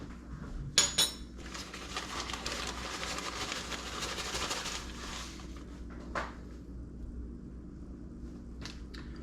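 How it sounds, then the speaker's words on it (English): A spoon clinks and scrapes against dishes in a home kitchen while making chocolate lava cakes, with a couple of sharper chinks standing out over steady rattling. "I need a spoon, because a spoon makes easier job."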